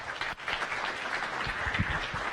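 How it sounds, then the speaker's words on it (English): An audience at a science café talk on concussions claps after the speaker, a quiet, steady patter of applause from a modest-sized room. "Let's give him a round of applause."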